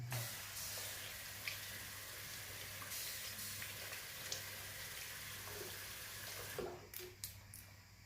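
A tap runs steadily for washing hands in a home kitchen while cooking breakfast, a faint continuous hiss of water with a few clinks near the end.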